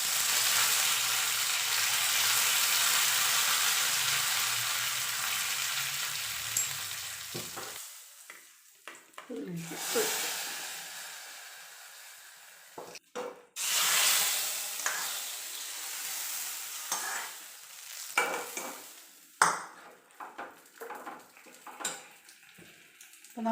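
Curry leaves hit hot oil for a pumpkin and tomato moru curry, bursting into a loud, close sizzle that fades, then gives way to intermittent stirring and clinks of a utensil against the pan.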